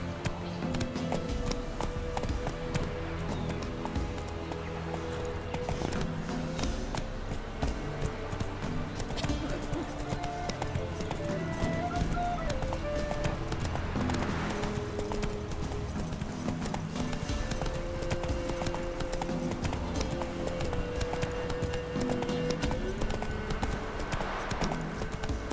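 Roach the horse from The Witcher 3 trots and gallops steadily through the whole stretch, hoofbeats clip-clopping continuously beneath layered game music and ambience.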